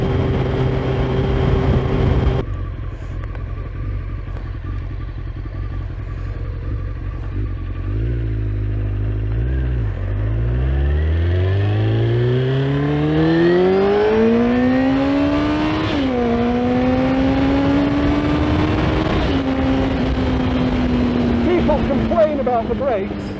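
A Honda Fireblade CBR900RR sport motorcycle, a rider's project bike, idles then pulls away and climbs through rising revs with gear-change dips, its engine note loud and close throughout, with wind noise underneath.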